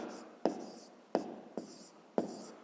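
Pen writing out a math solution on paper, four sharp taps spaced about a second apart, each followed by a short scratchy stroke, close and quiet with no talk.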